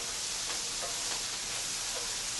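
Lo mein noodles being tossed in a hot pan make a continuous soft sizzle with faint stirring scrapes, fairly quiet and without talk.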